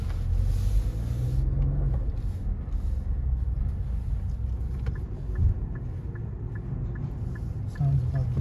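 Cabin of a 2022 SUV cruising on the road: a steady low tire and road rumble with a soft engine drone, fairly quiet and even throughout.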